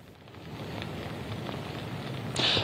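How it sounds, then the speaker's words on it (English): Steady rain pours down outdoors at night during a winter storm in Springfield, a dense continuous patter close by, with a brief brighter splash near the end and no voices. "The snow has turned into rain and is expected to continue overnight."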